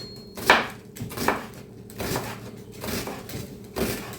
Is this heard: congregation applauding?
no